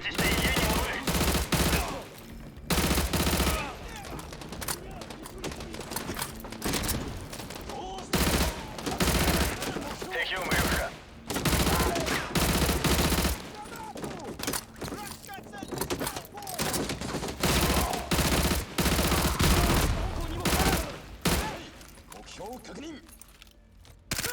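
AUG assault rifle fire in Modern Warfare 2 Remastered, heard as repeated loud bursts of automatic shots with short gaps between volleys, mixed with game effects and talk throughout.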